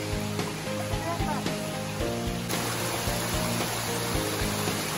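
Waterfalls at Rock Island State Park, hidden behind trees on a wooded hiking trail, give a steady distant rushing roar beneath people talking and occasional thumps.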